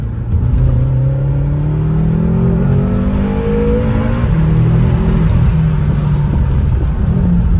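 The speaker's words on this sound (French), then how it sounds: "le son du M5 est franchement pas mal" A BMW M5 with 560 horsepower drives along, its engine giving a loud, continuous deep rumble with rising and falling revs heard close from inside the car.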